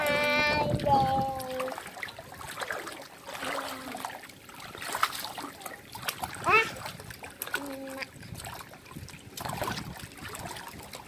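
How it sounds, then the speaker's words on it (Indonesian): A child swims in cold water, giving repeated light splashes and sloshing that carry on under continuous talking and calls, with the water noise close and moderately loud throughout. "Aku berenang teman-teman."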